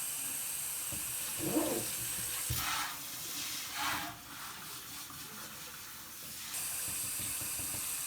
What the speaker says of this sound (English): Now I'm going to rinse the shampoo off.